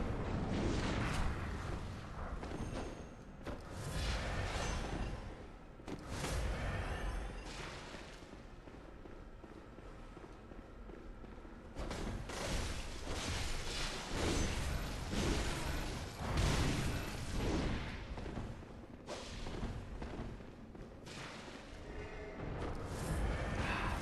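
Enemy gunfire in the video game Bloodborne, heavy booming blasts and crackling shots over a dense, loud rumbling game soundscape that continues without pause.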